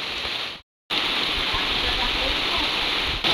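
Steady rain hisses loudly and evenly throughout, broken only by a brief silent gap near the start.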